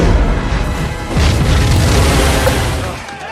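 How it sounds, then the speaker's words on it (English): Artillery firing toward Manhattan in Godzilla (1998) comes as loud, dense booming and rumbling blasts. The roar is sustained and heavy, briefly surging mid-clip before easing off at the end. "And now they're firing towards Manhattan."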